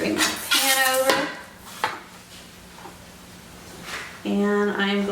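Metal cake pan slid and set down on a kitchen counter for a chocolate caramel poke cake, with two bursts of clattering, ringing contact close by, quiet room noise between and faint talk.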